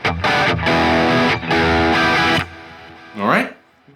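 Distorted electric guitar strumming bar chords in a few loud sustained hits with brief breaks, then a fading ringing chord and a short scraping string slide.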